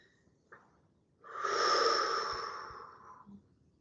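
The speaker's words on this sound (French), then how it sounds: "Abaisser les épaules et souffler profondément." A long, deep exhalation blown out steadily during a relaxation breathing exercise, rising quickly, holding strong for about two seconds, then tapering off, heard up close against a quiet room with no talk.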